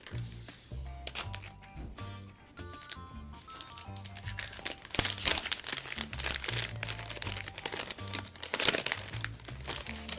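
Protective plastic wrap crinkles and crackles as it is peeled off a new 12.9-inch iPad Pro, with close, irregular bursts of rustling that grow busier and louder toward the end.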